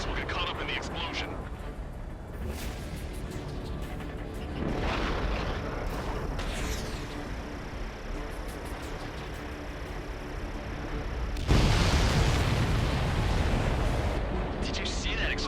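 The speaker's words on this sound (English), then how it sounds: "Did you see that explosion?" In the Ace Combat 7 mission Homeward, a supply ship explodes in several heavy, rumbling blasts, the last and loudest near the end, over a constant drone of aircraft engine noise.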